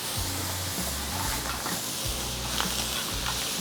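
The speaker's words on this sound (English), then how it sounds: "I hit it with a little wine. That's gonna deglaze the bottom of the pan." A hot pan of seafood fra diavolo with peppers and garlic sizzles steadily after a splash of wine, a dense hiss with low rumbling bursts, close and continuous.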